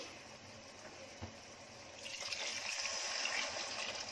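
Water pours into a cooking pot for sprouted field bean pulao, a steady splashing gush that grows fuller and louder after a couple of seconds as the pot fills.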